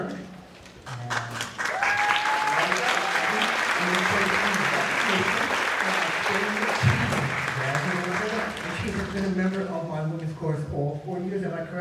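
An audience at a high school spring concert gives a loud round of applause that lasts about ten seconds after a senior in the treble chorus is honored, and voices and some cheering rise through the clapping.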